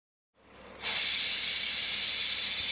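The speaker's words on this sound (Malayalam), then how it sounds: "ഇപ്പോൾ ഒരു വിസിലടിച്ചിട്ടുണ്ട്" A pressure cooker with its weight on, cooking a rice lunch dish over a medium flame, lets out its whistle: after brief quiet a rising hiss builds into a loud, steady, sustained jet of escaping steam.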